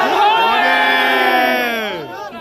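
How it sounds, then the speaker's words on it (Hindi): A loud, dense crowd of Bharatiya Janata Party supporters at an election rally ahead of a Ganga Aarti, shouting and whooping together in a sustained roar that eases slightly at the end. "भारतीय जनता पार्टी की तरफ से बहुत ही भीड़म भाड़ी चालू है"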